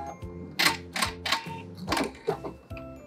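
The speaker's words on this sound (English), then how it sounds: "I'm going to make sure I backstitch at the beginning and the end of my seam" Sewing machine stitching back and forth to lock the end of a seam, a close, rapid mechanical clatter in short bursts with brief pauses between them.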